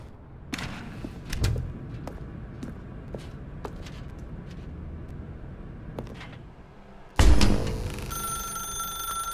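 A telephone rings in a dark room in The Stanley Parable: Ultra Deluxe, starting abruptly and loud after quiet ambience with faint thuds, then continuing as a steady bright ring.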